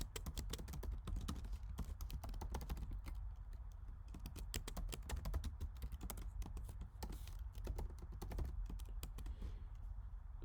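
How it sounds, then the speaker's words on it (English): Code being typed on a computer keyboard: rapid, irregular clusters of close key clicks and taps run steadily for about ten seconds, fairly quiet and with no talking. "let me just type the code."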